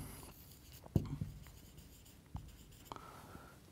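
Pen or chalk writing out an equation by hand in a quiet room: a few faint scratchy strokes and taps, soft and close, with short pauses between marks.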